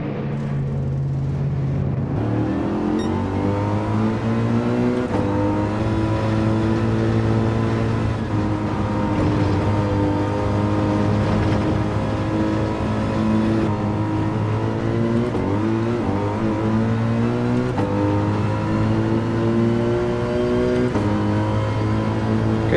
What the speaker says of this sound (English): Could hear the cars on my left hand side then, going down the other side of the track.